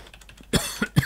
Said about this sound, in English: I'm having a little cough here